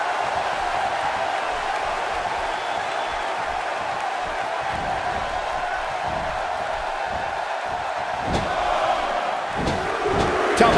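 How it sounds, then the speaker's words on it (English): Tokyo arena crowd in the video game WWE 2K18, a dense, steady roar of cheering that swells slightly toward the end, with a few sharp impacts near the close. "if you want to know the strength of WWE here in Japan, just listen to this Tokyo crowd."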